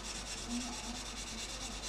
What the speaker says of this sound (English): Just get a very, very fine sanding stick, just rub her over gently